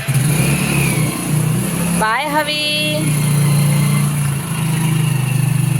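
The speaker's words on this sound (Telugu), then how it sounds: "బైక్ మీద వెళ్ళిపోయాడు." A motorbike engine revs and pulls away nearby, its rising whine climbing in pitch over a steady engine drone, with a brief spoken farewell from a voice in the clip.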